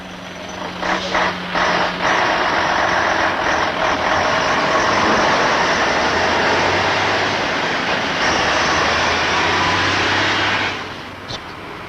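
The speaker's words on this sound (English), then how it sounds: "The ERF is designed to start up again on the same 1 in 4 gradient" An ERF lorry pulls away on a steep 1 in 4 gradient, its engine giving a loud, sustained labouring roar for about ten seconds before it drops away, with no talk over it.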